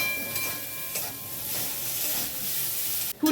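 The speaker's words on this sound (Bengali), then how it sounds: "এবার কড়াইতে আরো খানিকটা তেল দিয়ে ফুলকপিটাকে ভেজে নেব।" Cauliflower seasoned with salt and turmeric frying in oil in a wok, a steady broadband sizzle that holds for about three seconds before a sharper burst of spitting near the end.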